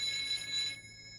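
A cartoon telephone rings in the Doraemon household, a bright electronic trill heard close and alone that stops partway through.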